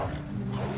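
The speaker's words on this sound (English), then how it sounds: "We got more wolves on the left." Wolves snarl and growl in the Red Dead Redemption video game, a short, dense burst of low rough rumbling that sounds close and fills the moment without any talk.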